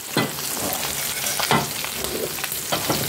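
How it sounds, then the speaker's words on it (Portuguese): Hot oil sizzles and crackles steadily, close up, with occasional louder bursts of spattering as pork rinds fry on a wood-fired stove. "Estamos fritando ali o torresmo"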